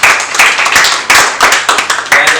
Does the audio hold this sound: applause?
yes